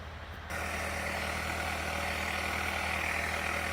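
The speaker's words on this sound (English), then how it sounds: "Another one of the pumps that they're, I guess, going to leave running tonight." An engine-driven pump runs steadily outdoors in wetlands, a constant low mechanical drone with a faint hum that starts abruptly after a brief quiet moment and then holds at an even level.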